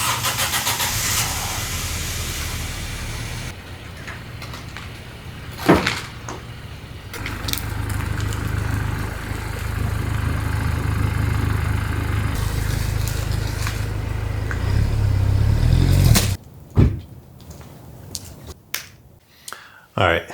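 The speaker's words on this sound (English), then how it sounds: "I'm just going to go ahead and pull the A4 out of the trailer" An Audi A4 cranks and starts, then idles and drives out of an enclosed trailer. The engine rumble holds steady for about fifteen seconds, then cuts off, followed by a few sharp clicks and knocks.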